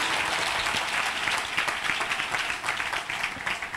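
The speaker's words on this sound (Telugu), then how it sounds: "చప్పట్లు కొట్టచ్చు కదా" A church congregation at a Pentecostal Sunday service in Vijayawada breaks into sustained, dense applause, many hands clapping steadily and loudly with no speech over it.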